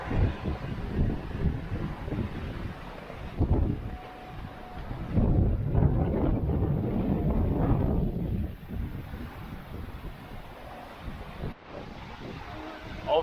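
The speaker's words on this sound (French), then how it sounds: "il y a des rafales qui sont montées à 25 nœuds là" Strong wind gusting across a sailboat on an Atlantic crossing from Marigot toward the Azores, with gusts reaching about 25 knots, giving steady roaring buffeting and rushing water with surges and lulls, close and loud, with no talk.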